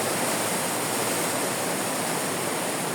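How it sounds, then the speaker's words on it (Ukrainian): Steady rushing water fills the whole clip, a continuous broadband hiss of floodwater pouring through a town drainage pipe into a ditch, close and unbroken. "і вся вода йде в ярок"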